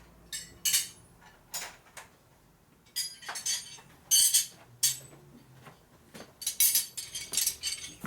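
Metal wrenches being picked through during a 1965 Harley-Davidson panhead motorcycle repair, with sharp intermittent clinks and rattles in irregular bursts and quiet gaps between them, close by.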